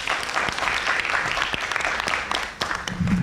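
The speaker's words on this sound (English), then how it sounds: "A round of applause for the guys." Audience applause fills a university law debate knockout round, steady dense clapping from a crowd throughout, with a brief dip near the end before it swells again.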